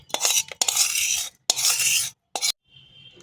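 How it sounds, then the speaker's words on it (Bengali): Stirring raw tomato chutney in a pan, several scraping strokes of a spoon against metal in short bursts separated by brief pauses, close and clear with no talking. "ভালো করে মিশিয়ে নেব।"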